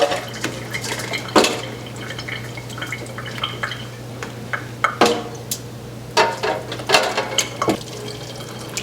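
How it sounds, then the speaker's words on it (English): A pot of food is drained into a strainer in a home kitchen, with water splashing and dripping amid repeated clanks of metal pots and utensils, all fairly close. "now I'm gonna try to drain all of this into the strainer"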